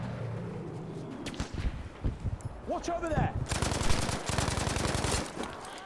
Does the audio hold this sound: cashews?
no